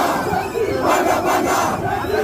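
A large crowd of protesters shouts and roars together in a loud, dense, continuous wall of voices that swells slightly midway through.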